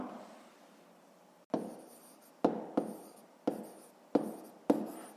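Pen or chalk writing strokes on a surface during a 5th-grade maths lesson, a faint scratchy stretch followed by five or six sharp, evenly spaced strokes, close and fairly quiet with no talking.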